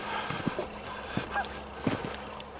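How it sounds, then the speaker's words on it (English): A goose honks a few times, short nasal calls spaced out over a steady outdoor background, moderately close. "It's a goose"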